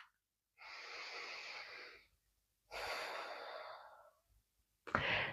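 Slow, deep breaths during a gentle yoga flow: two long airy exhales close to the microphone, each lasting over a second, separated by quiet, then a sharper intake at the end.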